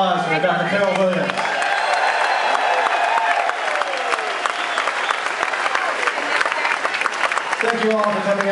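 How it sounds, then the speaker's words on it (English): An audience claps and cheers for Dr. Carol Williams, loud sustained applause with whoops and chatter mixed in, and voices talking over the clapping near the end. "How about a round of applause for Dr. Carol Williams?"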